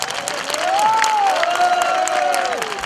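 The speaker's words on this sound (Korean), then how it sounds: "여러분 큰 박수 부탁드리겠습니다." An audience at a local residents' meeting about relocating Daegu's military and civilian airport claps loudly and steadily, with a few crowd voices and a high tonal whine running over the clapping.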